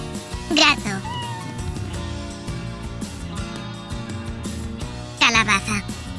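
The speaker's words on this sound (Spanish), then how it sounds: "Gato." A cat meows twice, a short call near the start and a longer one near the end, set against a steady music bed as part of a children's Spanish lesson on animal names and sounds.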